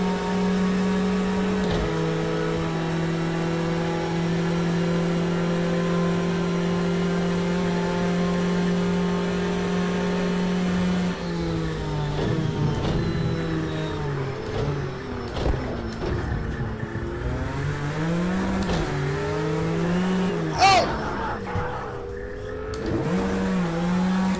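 A Ferrari race car engine in Project Cars 2 roars steadily at high revs, then shifts through gears with rising and falling pitch sweeps, loud and close, with other engine tones mixing in during the later stretch.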